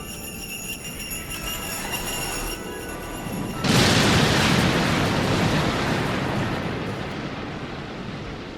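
Dropped bombs explode as a sound effect, a loud, sudden roaring blast that swells and then sustains as a broad rumbling wash before slowly fading, with no voices.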